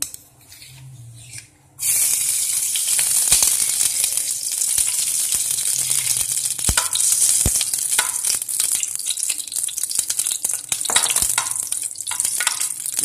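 Desi ghee sizzles hard in a hot pan before semolina goes in for suji laddu, a loud dense crackling fry starting abruptly after quiet, with sharp pops throughout and no talk.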